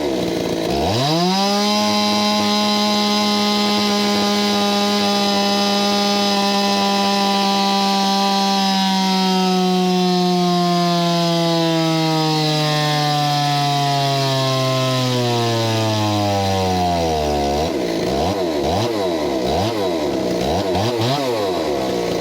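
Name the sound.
Stihl 026 chainsaw running on dyno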